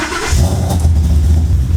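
A modified second-generation Mustang engine cranks and catches, then settles into a loud, steady rumble up close with no one talking.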